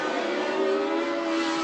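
A turbocharged Renault Formula 1 car from a race in Austria drones past, its steady high engine note held loud and even across a short pass with no voices.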